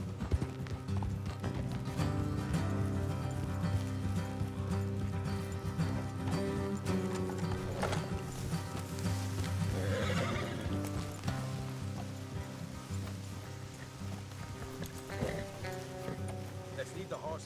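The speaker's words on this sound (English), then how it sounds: "Let's leave the horses here and go the rest on foot." Horses in the game Red Dead Redemption 2 clip-clop along at a steady trot while neighing and whinnying break through, set under a continuous bed of in-game music and voices.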